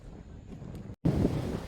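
Strong headwind in a coastal Konkan village in Ratnagiri buffets the microphone with a rough, low roar, a brief cut to silence midway, then resuming louder and gustier, close and with no voices.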